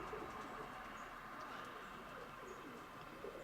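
A grey pigeon with a speckled tail coos softly, low and faint, with a steady background hum throughout.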